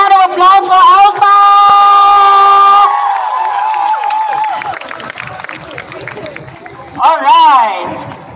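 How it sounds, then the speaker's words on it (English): Crowd cheering and applause at a Women's March rally in Malaysia, with loud sustained shouting and a swell of noise that fades partway through, then a brief second burst of cheers near the end. "Can we give another round of applause for Elsa?"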